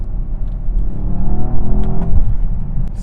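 Mercedes S63 AMG E Performance, a plug-in hybrid with AMG 4MATIC, accelerating from inside the cabin: a steady, fairly loud engine rumble with a rising tone, no speech over it.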